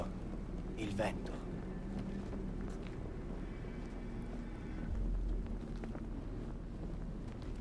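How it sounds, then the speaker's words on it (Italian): Wind blowing through an ancient temple in Assassin's Creed Brotherhood, a steady low rushing drone that holds for the whole stretch, with a brief gust swelling near the end. "Udito? Il vento."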